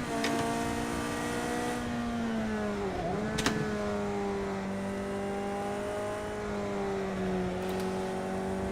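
A Ferrari engine in the racing game Project CARS 2 screams at high revs, bouncing against the rev limiter with a buzzing stutter, dips briefly during a shift, then holds near the top again.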